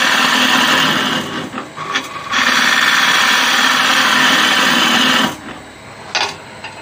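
A wood lathe spins while a gouge cuts a candle holder, giving a loud, steady rasping scrape that halts briefly near the two-second mark, then resumes before fading into quieter workshop sound.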